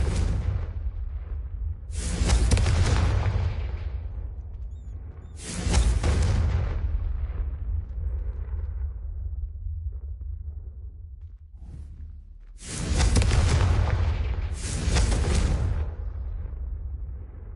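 Confringo fire spells explode in the Hogwarts Legacy video game: about four loud, roaring blasts with deep rumbling tails, spaced a few seconds apart over a steady low battle rumble.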